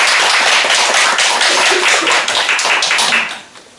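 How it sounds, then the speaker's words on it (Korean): Church congregation clapping to welcome a new member during a Sunday service: steady, loud, close applause that fades out near the end. "우리 박수하겠습니다."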